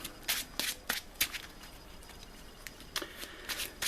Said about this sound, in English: I'm going to shuffle the player deck.